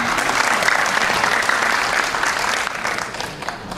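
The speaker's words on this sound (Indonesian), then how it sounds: "Luar biasa kan? Tepuk tangan." Audience at a political debate for presidential convention candidates in Bogor giving sustained applause, a dense, even wash of many hands clapping that fades slightly at the end, with faint voices underneath.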